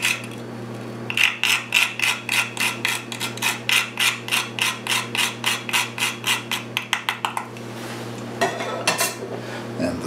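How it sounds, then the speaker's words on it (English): Nutmeg scraped on a metal grater over a thick fish pie filling, a run of about twenty quick rhythmic rasping strokes close to the microphone over a steady kitchen hum, with no talking. "A few scrapings of nutmeg."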